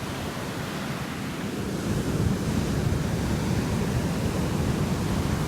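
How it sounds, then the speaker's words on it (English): Steady ocean surf washing up along a beach in Mexico, a continuous broadband roar that swells slightly louder partway through, heard without voices. "The ocean."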